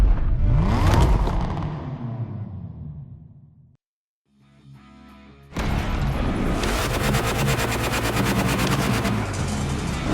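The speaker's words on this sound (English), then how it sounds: "You're probably wondering, why a chopper?" Helicopter and vehicle engine roar from the racing video game The Crew Motorfest, loud and continuous, dropping out briefly to near silence midway before a dense, full-band rotor-and-engine wash surges back and holds steady.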